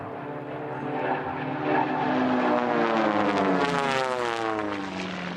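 Propeller racing airplanes flying at the Reno air race, a loud roaring engine drone that swells and shifts pitch as the aircraft pass close by, sustained throughout.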